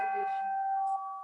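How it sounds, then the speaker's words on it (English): A household doorbell chimes once with a clear sustained ringing tone that decays slowly, heard indoors with a faint voice briefly at the start. "Is that the timer or is that a doorbell? It's a doorbell."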